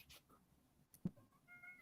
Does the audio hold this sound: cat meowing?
yes